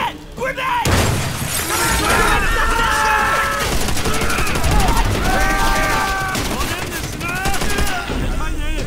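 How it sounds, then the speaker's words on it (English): A grenade explosion opens a loud, dense burst of gunfire in Call of Duty World at War near a downed, smoking plane fuselage, with heavy battle noise throughout and voices shouting over it. "Shit! Grenade!"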